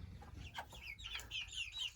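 Soft, close clucking and chirping from backyard chickens, including meat birds kept with ducks on a homestead. Several quiet, quick calls overlap in a short burst with no talking.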